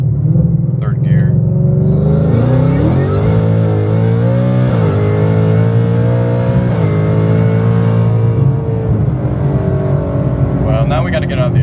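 A supercharged 2024 Ford Mustang GT pulls hard at wide open throttle in third gear, its loud, close engine drone climbing steadily in pitch with a few brief dips, continuous and dominant throughout, without talking.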